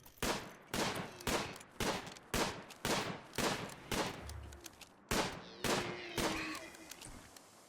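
Bursts of colonist gunfire in the colony-building game Rimworld, roughly a dozen sharp shots in an uneven rapid rhythm, loud and close, with no voices over them.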